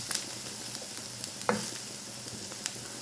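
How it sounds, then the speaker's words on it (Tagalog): Garlic sizzles in hot oil for shrimp biryani, a close, steady frying hiss with a few faint pops and light stirring clicks. "Nag-add na tayo ng garlic. Tapos hintayin natin na mag-golden brown."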